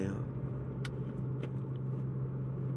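A dirt-hauling truck passing on a road, heard as a steady low engine rumble and hum that stays constant throughout, with a few faint higher clicks.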